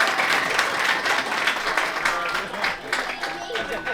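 An audience at a talk at a happiness festival bursts into sustained applause for a speaker, many hands clapping in a dense, even roar that tapers slightly near the end, with a voice faintly underneath.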